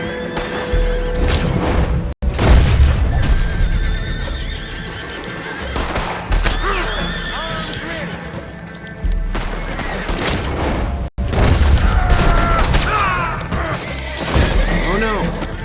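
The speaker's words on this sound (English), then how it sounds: "They're firing." Gunfire erupts amid a Red Dead Redemption 2 scene, scattered loud shots mixed with horses whinnying and hooves clopping, with someone talking over the commotion.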